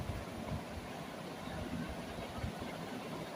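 A ghost train in the video game GTA V gives off a steady, low rumbling engine hum with a faint idling drone, continuous and unbroken throughout.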